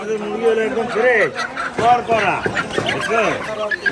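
Chickens at a busy poultry market during Ramadan give clucking calls close by, mixed in with steady bargaining voices throughout.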